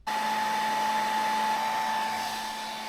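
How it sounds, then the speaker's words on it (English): Hair dryer blowing hot air to soften glue in a DJI Mini 3 drone arm housing slot, a steady loud whirring hum that starts abruptly and runs continuously without speech. "I managed to do it with a hair dryer, just heating it long enough."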